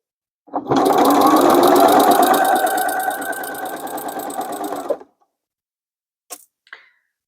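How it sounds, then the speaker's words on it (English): A sewing machine stitches quilt binding in a steady, close, continuous whir for about four and a half seconds, then stops, followed by a couple of faint clicks. "instead I impatiently went ahead and machine stitched it"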